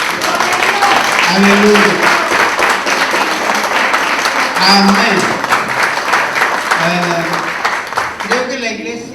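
Church congregation applauding together, a broad sustained wash of clapping mixed with voices calling out in praise, loud and close throughout.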